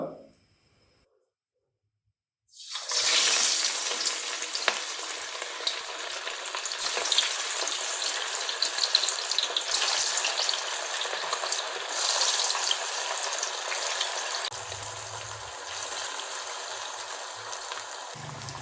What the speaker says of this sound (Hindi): फिश के पकौड़े मैंने फ्राई होने के लिए घी के अंदर डाल दिए हैं।